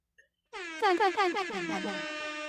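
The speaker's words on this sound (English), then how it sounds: "There's an air horn there too." A loud air horn blares after a brief silence, holding a brassy, buzzing tone with a few pulsing wavers before it sustains to the end.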